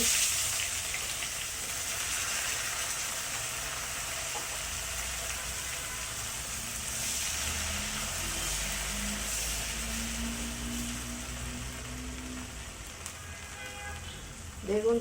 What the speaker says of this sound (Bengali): আমি হাই হিটে ফ্রাই করে নিব